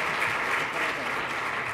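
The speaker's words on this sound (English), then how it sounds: "Let's have a final round of applause for our excellent panel." A symposium audience gives a steady, close round of clapping for a panel, with a voice partly audible beneath the applause.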